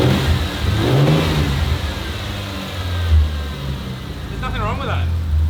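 A turbocharged Ford Fairlane engine revs loudly at its first start-up, big injectors clattering, with rising and falling swells over a rough idle, close by, while people talk over it.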